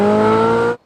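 A Ferrari 458 Speciale Aperta's naturally aspirated 4.5-litre V8 holds a loud, steady high rev at close range, then cuts off abruptly.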